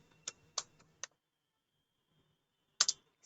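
Short bursts of computer keyboard typing come close and quiet as a Playwright command is entered: a few quick clicks, a pause, then a couple more keystrokes.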